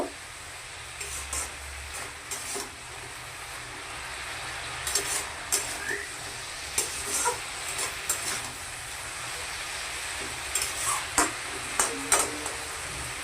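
Vegetables, including bottle gourd leaf shoots, being stirred in a pan, with a low steady cooking hiss and scattered clusters of scraping utensil clicks and taps against the pan, close and moderately loud.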